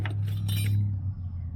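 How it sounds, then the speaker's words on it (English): Metal bolts and starter shims clink and rattle in a small bucket being picked through beside an old 1969 Chevy van, a short burst of jangling that fades under a low steady hum. "Oh, here's a little bucket of bolts."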